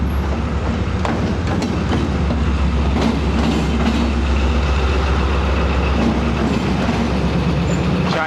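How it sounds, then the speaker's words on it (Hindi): The Awam Express passenger train arrives behind Chinese-built locomotive ZCU 6308. A loud, close diesel rumble and grinding of rolling stock run continuously, with clattering wheel and rail knocks and a sharp squeal near the start. "अब अवाम एक्सप्रेस पहुंच रही है। ZCU 6308 है इसकी लीड पे"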